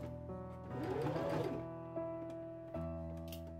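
A sewing machine stitching the skirt onto a Regency apron dress, a steady close mechanical whir that briefly speeds up, then settles into a quieter running hum with small clicks, alone without voices.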